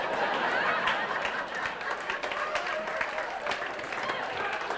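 Applause and crowd noise from an audience at a live stand-up comedy show: steady clapping and murmuring at moderate volume that fills the whole stretch.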